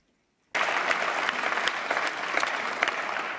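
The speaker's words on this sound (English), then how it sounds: "It's strange if we didn't get applause at that point in the speech" An audience breaks into sudden applause at a solemn ceremony marking the European Parliament's 70th anniversary. The clapping starts abruptly after half a second of near silence and holds as a steady, full-room ovation.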